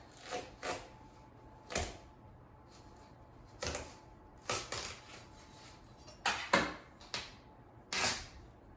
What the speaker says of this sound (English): the first step of cutting a watermelon is to cut it in half